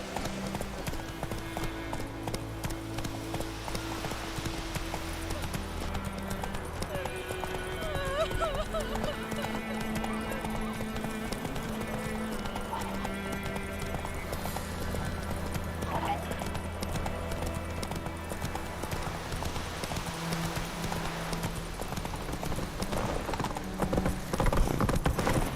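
Roach the horse in the video game The Witcher 3 galloping with steady rhythmic hoofbeats and an occasional whinny, set against game music and ambience, with characters talking over it.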